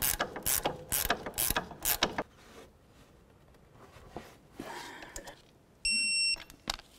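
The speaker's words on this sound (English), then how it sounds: "We'll bottom it out and then we'll torque that to 55 foot-pounds as well." A torque wrench ratchets in quick bursts while tightening a front sway bar link nut on a 2003-08 Toyota Matrix, loud clicking near the start and again briefly near the end, followed by a sharp electronic beep.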